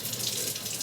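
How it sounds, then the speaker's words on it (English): Water running from a Delta Touch faucet, a steady, close hiss of flowing water without pause or voices for under a second. "getting the water flowing"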